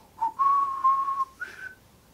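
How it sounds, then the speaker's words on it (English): The iconic West Side Story whistle from the film trailer, a clear two-note rising then sustained whistled call followed by a shorter answering phrase, close and unaccompanied. "just hearing that iconic West Side Story whistle"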